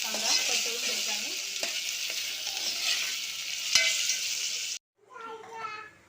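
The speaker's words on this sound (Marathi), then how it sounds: "गोल्डन ब्राऊन कलर येईपर्यंत आपल्याला हा कांदा परतवून घ्यायचा आहे" Onions sautéing in a pan for pav bhaji, a bright, steady sizzle with occasional stirring scrapes that runs for several seconds, then cuts off abruptly, followed by a softer sizzle with children's voices faintly in the background.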